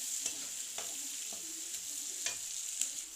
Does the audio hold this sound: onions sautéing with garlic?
yes